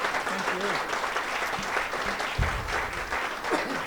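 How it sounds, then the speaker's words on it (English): Sustained audience applause for the speakers after an evening panel on the 2016 presidential election, a dense even roar of clapping that fills the room throughout, with faint voices underneath. "We'll give our speakers a round of applause for their work tonight."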